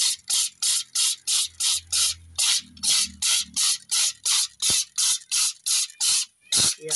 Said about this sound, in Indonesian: kita semprot terus sampai bersih